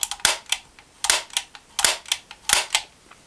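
Dry-fired trigger of an HK45 CO2 airsoft pistol with no CO2 capsule inside, giving about eight sharp, close mechanical clicks in a steady rhythm, alone and fairly loud.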